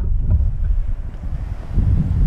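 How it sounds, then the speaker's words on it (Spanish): Strong wind buffets the microphone outdoors at a beach, over rubble from the ruins of an old hotel, a steady low roar with gusts, louder again toward the end, with no voices. "estamos completamente al aire libre y corre mucho viento por acá"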